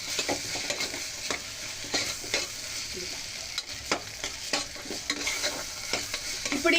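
Ginger-garlic paste for a mutton curry fries in oil in a pan, a soft, steady sizzle broken by frequent scraping and tapping strokes of a spoon as it is stirred, fairly quiet and without talk.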